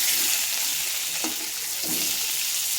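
Fish frying in oil right after being flipped, a dense close hiss of sizzling with a couple of soft stirring knocks.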